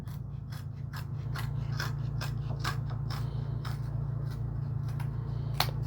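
Scissors cut through a piece of leather during work on a CZ 457 rifle bolt knob, a series of crisp, evenly spaced snips over a steady low hum.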